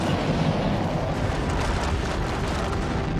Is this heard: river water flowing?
no